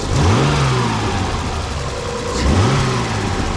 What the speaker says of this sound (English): Now let's give it a little rev